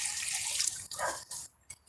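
Water from a tap or jug runs steadily for about a second, then breaks into a few short splashes and trickles as it fills a glass, close and fairly quiet.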